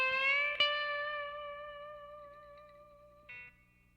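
Electric guitar playing a slide lick from a guitar solo, a few sliding notes ringing out quietly and close with a short fresh note near the end, alone with no talking.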